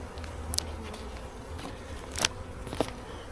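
Honeybees flying around an open beehive during an early spring inspection, a low continuous buzzing hum with a few brief louder passes near the microphone and no talk.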